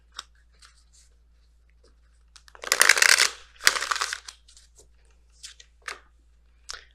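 A deck of Messenger Oracle cards is shuffled close by in two quick riffling bursts, surrounded by faint taps and soft handling of the cards in an otherwise quiet room.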